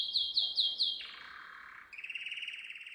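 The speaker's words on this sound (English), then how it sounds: "Grandad has his own bird who is a canary called Chirp." A pet canary named Chirp sings nearby: a quick run of four sharp, repeated chirps, then a lower buzzy trill, then a fast rapid twitter, clear and alone against quiet.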